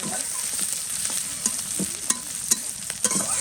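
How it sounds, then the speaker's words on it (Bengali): Meat fries with chopped onion in a hot pan, a dense, loud, continuous sizzle close up, punctuated by a few sharp spatula scrapes and taps as it is stirred. "পেঁয়াজ কুচি দিয়ে দেবো মাংসটাকে একটু ভালো করে ভেজে নেব"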